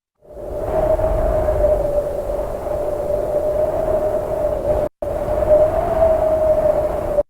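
A voice imitates wind blowing with the mouth, a steady breathy whoosh with a hollow tone, briefly cutting out midway.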